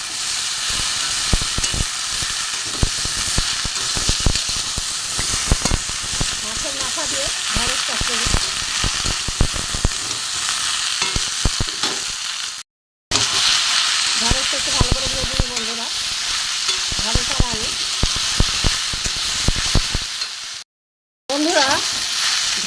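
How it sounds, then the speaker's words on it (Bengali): Chopped okra and potatoes with tomato fry in a pan, making a loud continuous sizzle and hiss with frequent stirring clatter, cut by two short silent gaps; a voice briefly talks over it. "আমি এর সাথে এবার একটু ভালো করে ভাজবো"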